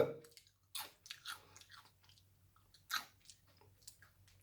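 Crispy fish-shaped Orion Marine Boy biscuits are crunched close to the mic, with a few sharp bites followed by quieter irregular chewing crunches and no voices.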